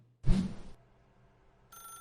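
A telephone in The Stanley Parable rings in short bursts: a loud thump first, then a bright electronic ring beginning near the end, clear with no talk.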